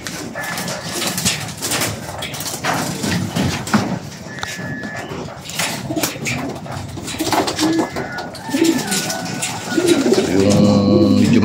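Racing pigeons at a loft during a derby race, cooing and calling amid steady background commotion and a voice, with a louder burst of activity near the end.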